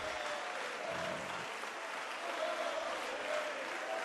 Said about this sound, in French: Let's give him a hand of praise.